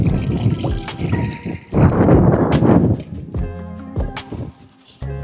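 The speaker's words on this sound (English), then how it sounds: "put some water in there to get everything going" Water splashes and trickles into a metal pot on an outdoor grill in uneven bursts, with clinks and knocks of cookware close by.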